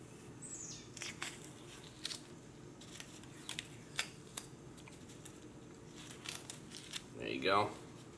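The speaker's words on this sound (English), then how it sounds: "we're going to begin to peel off what you should have as painter's tape." Painter's tape peeled slowly off a painted rifle magazine gives faint, sparse crinkling ticks and short tearing clicks in a quiet room.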